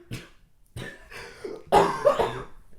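A person coughs in several separate bursts, near and dry, with short quiet gaps between them and a louder, harsher fit toward the end.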